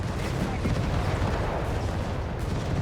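Dense, continuous battlefield din from Company of Heroes 3, with American anti-tank guns firing amid heavy booming gunfire and explosions. The roar is loud and steady, with no single distinct shot standing out.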